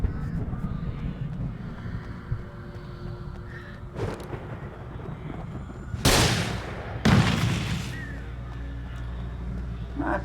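Flare gun fired twice in a video game, each shot a sharp, loud, broadband boom about a second apart, over a steady background of game ambience and low rumble.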